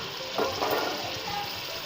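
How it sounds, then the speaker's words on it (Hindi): Water poured into a pan of simmering chicken qorma gravy with tomato and yogurt, a brief splashing pour lasting about a second at moderate loudness, with no voices. "हाफ लीटर पानी डाल दिया"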